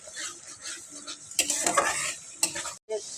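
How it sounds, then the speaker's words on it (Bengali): A spatula stir-fries a spice paste with tomato gravy in a pan alongside cauliflower and potato for a fish dish. There is steady scraping over a constant sizzle, with louder clattering strokes in the middle and a brief pause near the end. "মশলাটাকে কষিয়ে নেব।"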